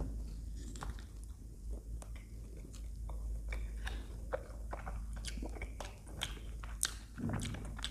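Close, crisp biting and wet chewing of a children's candy ice cream, repeated crunchy bites and mastication sounds continuing steadily for several seconds with no talking.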